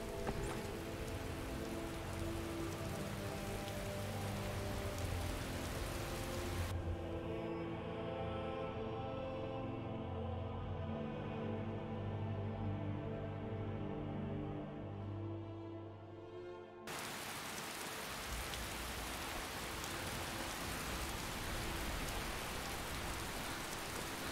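Rain falling in the video game Skyrim, a dense, steady hiss of drops that gives way in the middle to a calmer stretch with a low tonal hum before the full downpour returns.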